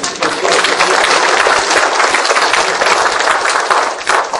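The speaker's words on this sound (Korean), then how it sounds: "박수 안 치세요?" A lecture audience at a Donghak Revolution anniversary talk breaks into loud, dense, continuous applause, a thick wall of overlapping claps held steady for over four seconds with no talk.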